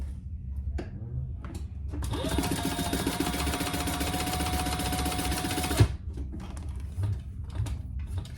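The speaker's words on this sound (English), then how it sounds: "And again, top stitch the bottom." A sewing machine topstitching a bag runs in one continuous burst of about four seconds, a fast whirring stitch rattle that starts and stops sharply, close and clear, with light handling noises before and after.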